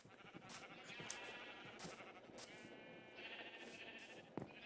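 Minecraft sheep bleat repeatedly in a farm pen, several overlapping wavering cries at moderate distance over a steady low background, with no talk.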